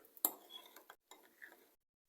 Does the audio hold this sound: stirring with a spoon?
yes